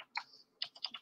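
Typing on a computer keyboard, a few quick clustered keystrokes with a pause between bursts, close and clear with no talk.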